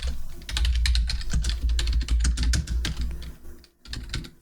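Rapid typing on a computer keyboard at a desk, with dense, steady clicking of keys close by and a brief pause near the end.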